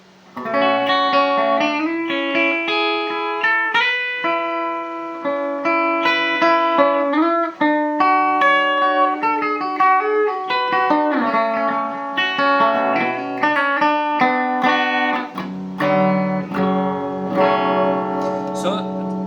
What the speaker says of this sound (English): Yeah, this is the sound of the amplifier, and I'm playing through a Vox AC30.